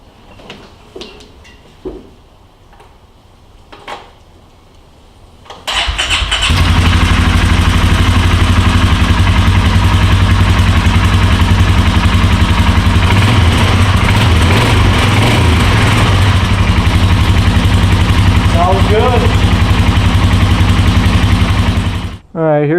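A recreational trail-riding vehicle's engine starts after some quiet handling noises, then runs loud and steady at a high, buzzing idle close by for over fifteen seconds before cutting off abruptly.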